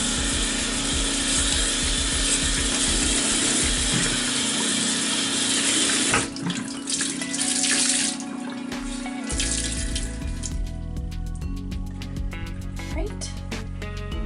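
Water runs from a tap into a sink at home, a steady rushing stream heard close up, broken around the middle by clattering handling sounds and clicky mechanical noises before the flow continues.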